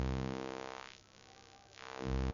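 A buzzy synthesizer tone played through a high-pass filter, its low end thinning out into a hollow, airy sweep and then filling back in, steady and alone with no voices.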